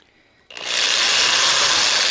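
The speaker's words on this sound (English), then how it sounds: "let's start with a smaller drill bit" A small power drill whirs to life and bores a hole into a custom mini figure, a sudden start followed by a steady, close, high-pitched whine.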